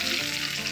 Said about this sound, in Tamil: இந்த தாளிச்ச அது சொரன்னு ஊற்றிடுங்க